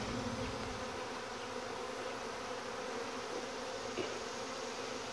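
Dense swarm of honey bees at a very active hive, a steady close-up drone of many wings buzzing continuously with no talk.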